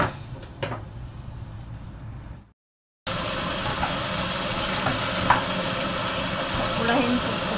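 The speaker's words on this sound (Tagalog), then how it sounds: "Ibigisa lang natin." Food sautéing in a hot pan gives a steady broadband sizzle and frying hiss with occasional stirring clatter, broken by a brief silent cut before the sizzle resumes louder.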